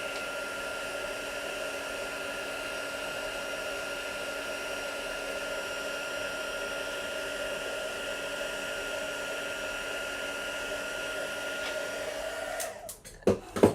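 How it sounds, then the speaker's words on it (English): A heat embossing tool blows hot air onto a card in a steady, loud whooshing drone that holds constant for about twelve seconds, then cuts off with a few clattering handling knocks at the end. "We're gonna set this with our heat tool. This will probably make plenty of noise."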